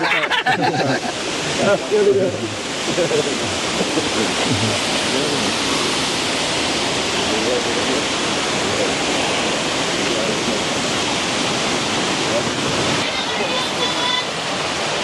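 River water rushes steadily in a broad, continuous wash close by, with people talking faintly underneath throughout.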